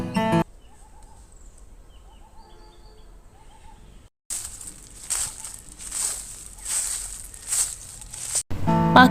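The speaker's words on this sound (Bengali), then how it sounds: "পাখির শব্দ, শুকনো পাতার আওয়াজ খুবই কম ঢাকায় শোনা যায়।" Birds call softly in the open air of a university campus in winter, with faint repeated chirps and calls, then a louder rustling, crunching stretch like footsteps on dry leaves nearby.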